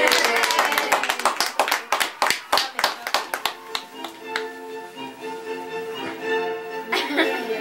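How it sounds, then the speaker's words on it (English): Crisp, fairly close handclaps from a small group come in a quick run of sharp individual claps. They thin out after a few seconds, and chuckles and a murmur of voices carry on beneath a lingering tonal sound. "Applause!"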